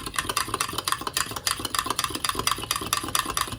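A spoon stirs hot coffee in a cup with a fast, steady clinking rhythm, bright metallic taps repeating several times per second, close and clear with no speech.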